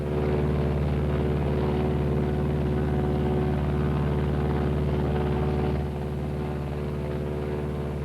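Twin engines of a Martin B-26 bomber drone steadily in flight, a loud, even propeller hum with stable harmonics that drops slightly in level near the end as one engine is throttled back.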